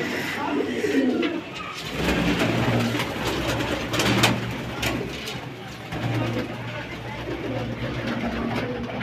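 Pigeons coo steadily at close range in a loft in Kanpur over a constant low mechanical hum, with faint background noise throughout.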